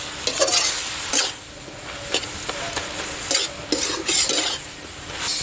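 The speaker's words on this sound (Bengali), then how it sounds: "এখন একটু ভাজা ভাজা করে নামাই দেবো" Boiled broken rice being stir-fried in a karai, with steady sizzling under repeated scraping and clinking strokes of a spoon against the pan, close and fairly loud throughout.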